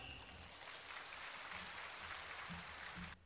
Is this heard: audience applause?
yes